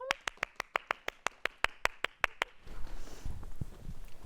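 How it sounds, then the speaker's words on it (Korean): About a dozen sharp, evenly spaced claps ring out close by at a student event, stopping abruptly and giving way to quiet room noise and shuffling. "다들 박수!"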